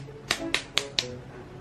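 Four soft hand pats, one palm patting the other hand as a sign in a Fujian sign language lesson, come in an even, quick sequence, close and fairly light, with no talking.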